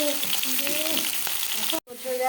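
Fish frying in a pan of hot oil, a steady broadband sizzle that runs continuously with a brief cutout near the end, no talking over it.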